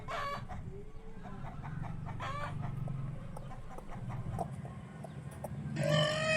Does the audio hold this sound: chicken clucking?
yes